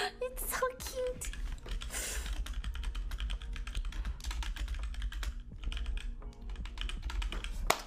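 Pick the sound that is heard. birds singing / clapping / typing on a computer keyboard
typing on a computer keyboard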